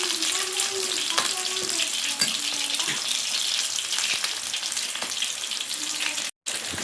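Oil sizzles and crackles steadily as samosas deep-fry, a close, continuous hiss with faint clinks now and then.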